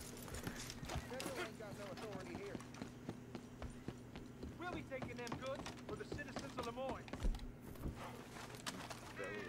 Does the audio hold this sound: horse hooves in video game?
yes